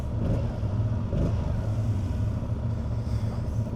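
A 2026 Yamaha R7 with its CP2 parallel-twin engine and improved airbox runs with a steady, dense low drone that holds nearly constant throughout, close and fairly loud, with no voices.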